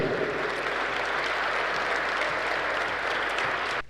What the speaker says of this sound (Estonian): Suur aplaus neile.